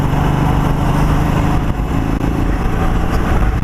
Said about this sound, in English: It's actually quite sublime, smooth, quiet bike.